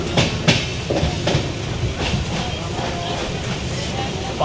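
The Sikkim Mahananda Express rolls into Sevoke station among hills in West Bengal, a steady rumble with repeated wheel clicks over rail joints, heard from on board with no talk.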